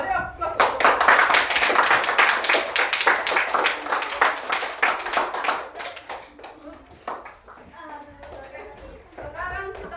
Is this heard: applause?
yes